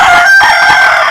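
A rooster crows loudly and close at a chicken farm in Jaffna, one sustained call filling the short moment on its own.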